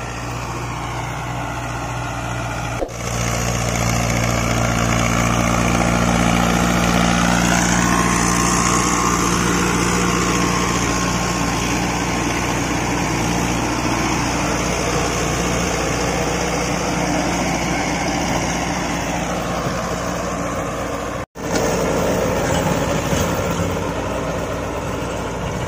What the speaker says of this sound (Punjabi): ਇਹ Mahindra 555 D I Arjan tractor